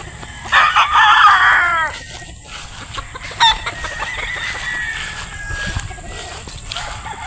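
Chickens nearby: a loud burst of rooster clucking and squawking, then softer clucks and a drawn-out call over faint outdoor background.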